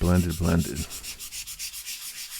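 A hand scrubs and blends a drawing with a piece of insulation used as a blending tool, giving soft, close rhythmic rubbing strokes that follow a brief tonal sound at the start.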